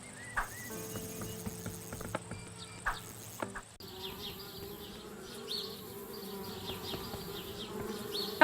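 Bees buzzing around a treehouse in the adventure game Anna's Quest, a steady droning hum that fills the scene alongside soft ambient game sounds, with a brief scene change midway.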